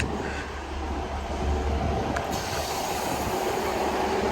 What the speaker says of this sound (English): Let this train go.